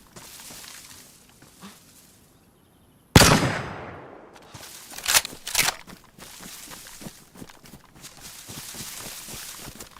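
A single sharp, loud gunshot from DayZ bursts out of near-silence and decays, followed a moment later by a couple of heavier cracks, with footsteps and movement continuing underneath.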